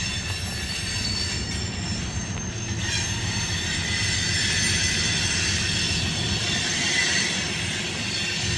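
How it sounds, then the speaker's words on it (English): A freight train rolls steadily past close by at a station, wheels grinding and squealing on the rails with a continuous metallic rumble and no voices. "Great train. I hear the engine."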